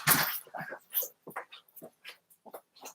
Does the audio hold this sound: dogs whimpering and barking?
yes